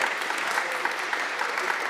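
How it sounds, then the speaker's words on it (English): A congregation claps in a meeting hall, a brisk, even patter of many hands held at a steady level over a couple of seconds, with a faint voice underneath. "clapping because that's a new title"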